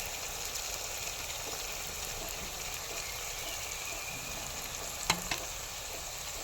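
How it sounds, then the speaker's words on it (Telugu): Tomato pieces and curry leaves frying in a pan for village-style gongura chicken give a constant hissing sizzle like rain, with two brief sharp clicks near the end, steady and with no talking. "ఇప్పుడు వీటిని మంచిగా ఒక 5 నిమిషాల పాటు మగ్గనిద్దాం"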